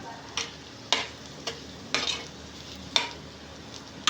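An egg fries in a pan, giving a steady low sizzle broken by about eight sharp scraping strokes at roughly half-second intervals, close and clear with no talking.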